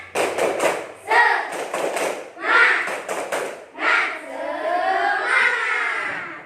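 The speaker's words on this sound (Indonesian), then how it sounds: "Sekali lagi, yang keras." Fourth-grade pupils at SDN 9 Hegarsa repeat a patterned group clap routine more forcefully, crisp clustered hand claps in rhythmic sets broken by children chanting together, near and energetic.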